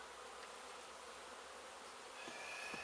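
Honeybees in a hive give off a faint, steady, dense buzzing hum that swells slightly toward the end, with no voices over it.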